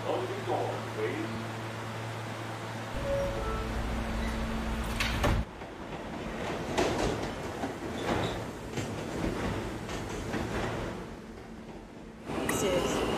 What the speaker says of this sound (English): This is a Potatoburg bound and local train.